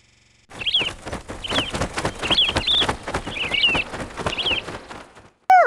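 Chirping and cooing birds in the Disney Learning Phonics Quest video game, a series of short bright calls over a steady busy bed of game sound, ending in a sudden loud chime.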